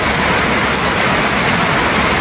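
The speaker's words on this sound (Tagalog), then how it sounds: "Umuulan. Malamig." Steady, loud rainfall pattering on a surface, a dense continuous hiss with no talking.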